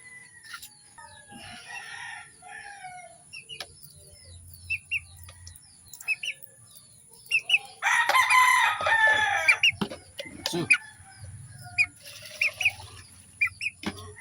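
Chickens cluck intermittently nearby, and a rooster crows loudly partway through, followed by more scattered clucks and chirps.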